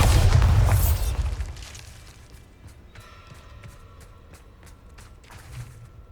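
A Bombarda spell blast in Hogwarts Legacy opens with a loud, deep boom that rolls off over about a second, followed by scattered lighter crackles and debris clatter.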